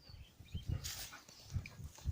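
A dog rolling in the dust on a riverside walk gives soft, brief whimpers and low grunting snuffles, close and intermittent over faint scuffing and outdoor background.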